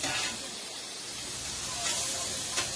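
Steak, mushrooms and onions sizzling on a Blackstone griddle, a continuous soft hiss and crackle, fairly quiet, with a faint voice underneath.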